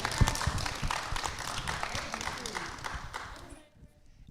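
A crowd claps and applauds at a live panel event, a steady, fairly close patter of many hands that swells and then fades out near the end.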